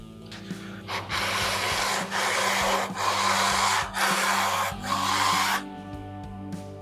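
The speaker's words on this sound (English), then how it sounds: "it seems like I'm sanding through the carbon fiber, unfortunately." Long, steady sanding strokes on a carbon fiber guitar neck, wearing through the carbon fiber, about five rhythmic passes of abrasive rubbing, close and loud over a low background hum.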